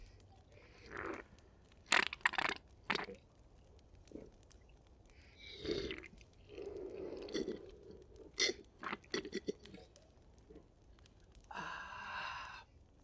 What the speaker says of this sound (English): Am I slurping too loud?